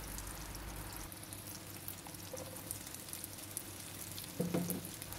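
Sliced onions go into a pan of frying crushed salted mackerel, a steady close sizzle and crackle running throughout with a brief louder stir or scrape near the end.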